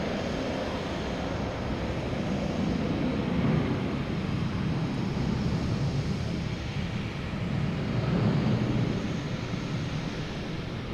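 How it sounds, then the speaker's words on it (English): JetBlue Airbus A320 taking off at Boston Logan Airport, a steady broad jet roar heard from a distance, swelling slightly and mixed with wind noise on the microphone throughout. "JetBlue taking off to Tampa in A320."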